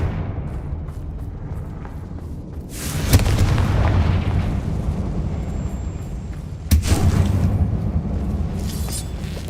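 Two heavy blasts from a Confringo fire spell in Hogwarts Legacy go off in a mine, each a loud booming burst with a crackling tail that rumbles on over a low ambient drone.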